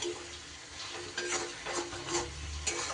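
Vegetables being stirred and mixed with spices in a pan while cooking a potol (pointed gourd) and potato dish, steady scraping strokes over a soft sizzle, close and moderately loud, with no talking.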